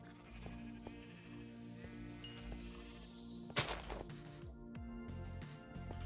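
Minecraft sheep bleat in a survival world, a few short bleats over background game sounds, followed by a sharp crash-like thud midway.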